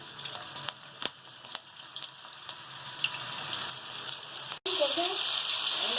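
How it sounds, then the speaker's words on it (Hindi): Beef koftas fry together in hot oil in a large frying pan, giving a steady soft sizzle with faint crackles throughout and a louder, brighter burst of sizzling near the end. "मैंने तमाम कोफ्ते डाल दिए एक ही दफ़ा में। हम फ्राई पैन हमारा बड़ा है, एक ही दफ़ा में पूरे फ्राई हो जाएंगे।"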